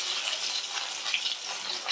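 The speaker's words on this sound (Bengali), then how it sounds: "পেটিগুলো খুব ভালো করে ভেজে নিয়েছি" Rui fish belly pieces frying in oil give a continuous, even hiss of sizzling with no talking, close and moderately quiet.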